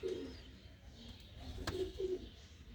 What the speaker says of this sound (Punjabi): ਆ ਦੇਖੋ ਕਬੂਤਰੀ ਬੈਠੀ ਆ